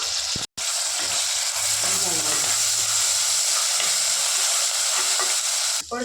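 Ginger-garlic paste hisses and sizzles steadily in a hot pan with curry leaves, a continuous close frying crackle with soft stirring scrapes and one brief break.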